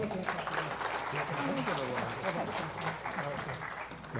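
Audience applause after an engineering lecture, a soft wash of clapping heard under a steady stream of nearby voices that dominates throughout.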